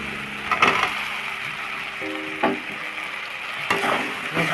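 Soybean chunks and potatoes fry in spiced oil while being stirred, a steady sizzle broken by a few sharp scraping knocks of the spoon against the pan.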